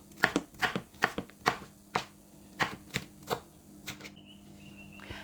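Knife dicing fruit on a cutting board, a run of crisp, close chops in an uneven rhythm, about a dozen sharp strikes that taper off toward the end, with no talking.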